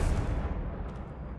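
Confringo blasting spell from Hogwarts Legacy, a single loud booming explosion that starts sharply and rolls off into a dense, fading rumble.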